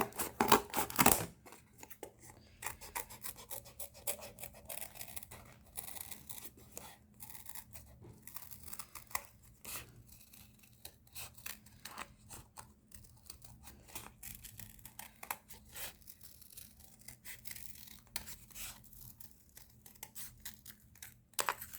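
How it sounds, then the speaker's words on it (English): Repeated crisp snipping and tearing as large scissors cut stiff cardboard, close up, in irregular bursts with brief pauses, no talking. "Cardboard, we're gonna be using bigger scissors, and I'm just gonna cut this up."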